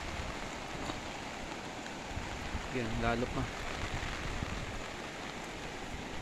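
Steady rain hisses over everything during a typhoon with flooding in rice fields, while people speak quietly underneath it.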